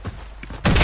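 Burst of gunfire in the online shooter Warface during a clan-war match, a loud sustained volley erupting after a quieter stretch with faint thumps, filling the end of the moment.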